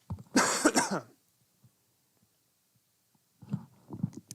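One loud, harsh cough up close, then near silence, followed by softer throat-clearing grunts at the end.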